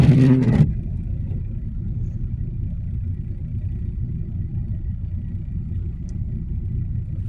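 A car pulling away slowly on a snowy road: a steady low engine rumble holds throughout at moderate loudness, after a brief louder burst at the start.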